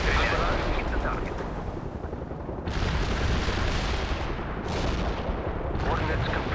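A World in Conflict artillery barrage rolls on as a steady, heavy rumble of distant impacts and booms, with a few sharper bursts rising out of the continuous roar.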